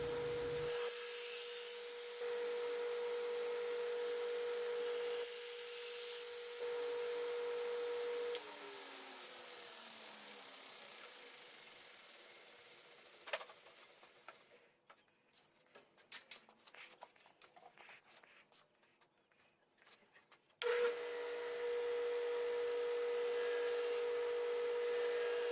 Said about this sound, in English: And I've moved on to the Scotch-Brite belt.